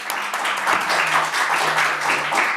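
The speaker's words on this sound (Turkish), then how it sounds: "Bir alkış gönderin keyfimiz yerine gelsin." A crowd claps steadily in a dense wash of applause, moderately loud and continuous, with a faint tone humming underneath.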